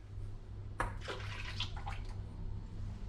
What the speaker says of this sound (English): So I'm going to pour off this water here